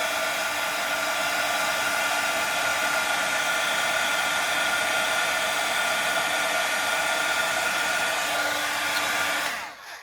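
A heat tool blows continuously on a coloured craft coin, giving a loud, steady whirring blast that runs unbroken for about ten seconds before cutting off at the end, with no speech.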